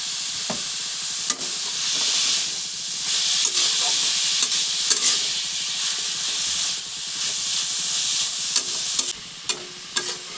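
Vegetables frying in a pan over a medium-to-low flame, a loud, steady sizzle and hiss with occasional clacks of stirring.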